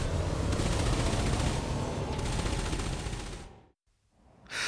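Laser blasts and multi-cannon rounds pound the shields of a Python spaceship in a dense, loud, continuous barrage that cuts off abruptly into near silence before a fresh burst starts.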